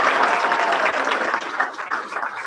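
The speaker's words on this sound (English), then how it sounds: "big round of applause" A crowd applauds at a Hawai'i Fire Department recruit class graduation, a loud, continuous wash of clapping that stays strong from start to finish, with no voices rising above it.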